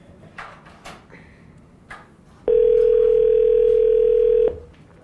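A telephone dial tone sounds loud and steady for about two seconds, preceded by faint clicks and handling noises while a number is being dialed.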